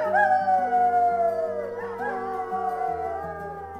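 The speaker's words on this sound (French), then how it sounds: "Les loups poussent des hurlements de joie" A pack of wolves howls together in long, sustained, rising and falling cries that overlap in steady harmony, loud and close, with no other sounds around them.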